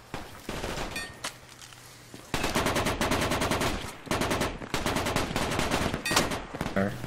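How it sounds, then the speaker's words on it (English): M240 machine gun fire in a video game firefight: sustained automatic bursts with rapid, dense rattling shots, loud and close, broken by brief pauses before further long bursts. "That's an M240."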